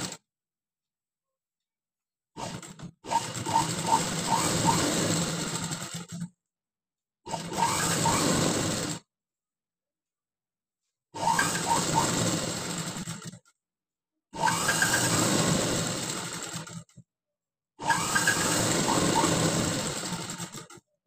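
A sewing machine stitches the back piece of a handwork blouse in five separate runs of a few seconds each. Each run is a close, steady whir, with silent pauses between runs.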